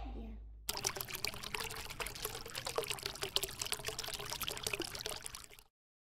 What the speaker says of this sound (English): We should pour the water to the top of the glass.